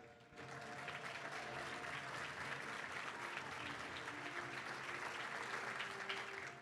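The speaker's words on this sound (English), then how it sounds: "please give a round of applause to Tatiana Hurd" A crowd at a touchdown club banquet applauds steadily, a dense wash of clapping that holds at an even level from start to finish, heard from within the room.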